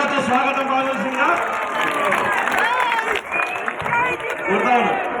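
An audience breaks into sustained clapping and cheering to welcome a minister onto a stage at a public political gathering, with a crowd murmuring and a voice on the microphone over the applause.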